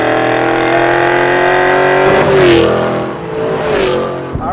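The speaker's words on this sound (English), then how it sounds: "ATAK mufflers are by far our most aggressive offerings for the street. They just sound phenomenal." A 2011-2014 Mustang GT V8 with a Borla ATAK exhaust idles with a deep, loud burble, then revs hard twice, each blip climbing and falling back to idle, close and alone.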